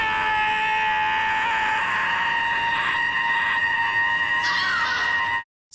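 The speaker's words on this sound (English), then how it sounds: "The scream lasts 20 hours every day." A man in the Torchwood episode "Adrift" lets out a prolonged, loud scream that holds steady and shrill for several seconds before cutting off abruptly.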